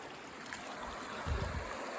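Running water of a small creek rushes steadily nearby, a continuous broadband wash that swells slightly louder in the second half, with no voices.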